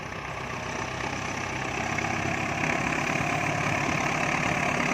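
A Ford 7610 tractor with an air-conditioned cab sits idling nearby. Its diesel engine gives a constant, even low chug that grows a touch louder over a few seconds, with no voices present.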